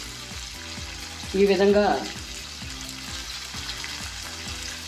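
Tomatoes and green chillies fry in a pan over a medium flame, a steady close sizzle with a brief louder burst of stirring and spitting, under a woman's short spoken words.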